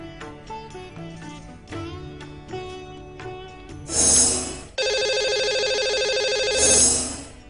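A telephone rings on a radio show as it calls a lucky caller. A ringtone melody starts the ring, followed by loud, shrill electronic ringing tones.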